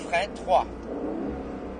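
An Aston Martin Vantage race car accelerates on a sprint racing circuit, its engine roar rising under a coaching voice speaking close by over the short burst.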